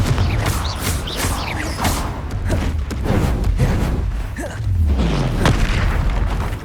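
Repeated Confringo fire spell blasts in Hogwarts Legacy: a series of booming, thudding bursts with crackling fiery tails over a dense combat soundscape, loud and sustained throughout.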